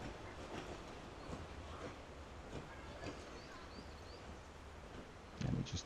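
A Talyllyn Railway steam train runs through woodland, its soft rhythmic puffing and rolling wheel noise heard at a distance over steady outdoor ambience, with a brief louder knock near the end.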